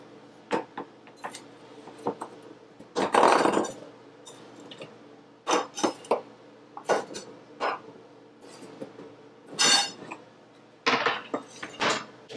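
Potatoes tumbling into a pot and being stirred in a home kitchen, heard as a series of sharp clinks and clatters with one louder scraping burst, close and without talk.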